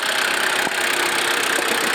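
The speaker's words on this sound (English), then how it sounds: "the engine started up without a problem, runs fine" A 1980 Mitsubishi Jeep diesel engine idling, a loud, steady, close-up clatter with a dense broadband drone and a brief dip partway through, no voices.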